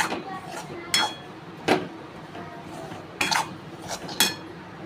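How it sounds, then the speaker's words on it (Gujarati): A spoon stirs a sweet milk and jaggery sukhdi mixture in a metal pot, knocking and scraping against the sides in about six irregular clanks over a low background hum. "મસ્ત રીતે હલાવી દઈશું આપણે આવી રીતે"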